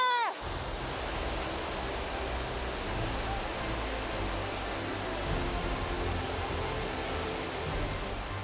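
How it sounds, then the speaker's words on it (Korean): Krimml Waterfalls in the Austrian Alps roar in a dense, continuous wash of falling water and spray, loud and unbroken from start to finish. "크림물 폭포가 저를 반겨주고 있어요"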